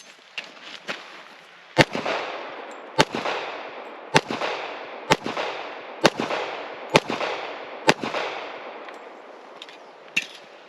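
A 1911 pistol fires about nine sharp, loud shots outdoors at an uneven pace, each crack ringing off into a short echo with faint pops between.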